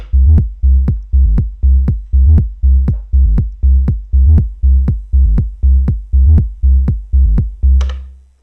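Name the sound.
Elektron Digitakt bass pattern with sidechain effect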